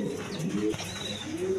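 A pair of dubash pigeons, a silver hen and a black cock, coo softly and repeatedly at close range, with low burbling calls and a few faint chirps from other birds in the background.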